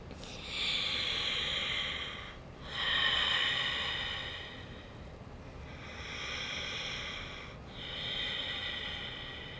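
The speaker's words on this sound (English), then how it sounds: "Two more deep breaths here." Slow deep breathing during a guided beginners' yoga session, several long airy inhales and exhales in a steady rhythm, close and fairly soft, with no talking.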